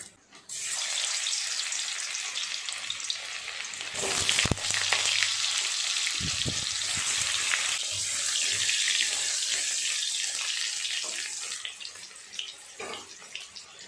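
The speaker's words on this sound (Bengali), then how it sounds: "আলুগুলো আগে একটু ভেজে নেব।" Potatoes frying in oil in a pan give a loud, steady, dense sizzle that starts abruptly and runs almost unbroken, with a brief louder surge near the middle and occasional clinks, close up and with no voices.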